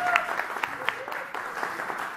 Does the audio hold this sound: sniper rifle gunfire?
no